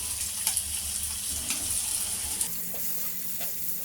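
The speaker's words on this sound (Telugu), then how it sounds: "ఇప్పుడు వీటిని వేసి ఒక 2-3 మినిట్స్ వేయించాలి" Chopped chillies and onion sizzle in a pan for Telugu lady's finger curry, a steady close hiss of frying with a few clinks and stirring scrapes, no voices.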